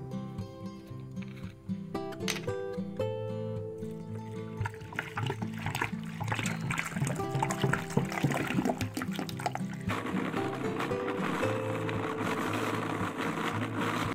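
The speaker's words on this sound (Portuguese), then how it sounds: "Aí eu vou colocar aqui a água." Water is poured into a blender jar holding pineapple peel for a juice, a steady close trickle and splash that runs for the whole stretch with no one talking.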